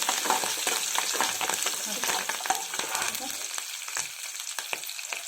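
Ginger, green chillies and curry leaves crackle and sizzle in hot oil for moong dal khichdi, close and busy with quick popping bursts that ease slightly toward the end.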